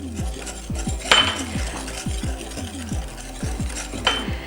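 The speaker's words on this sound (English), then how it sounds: "We are gonna mix all our ingredients, being careful that we don't want to overmix." Pancake batter made with vanilla bean paste being mixed in a bowl, a steady run of rhythmic scraping and clinking strokes, close and moderately loud with no talking.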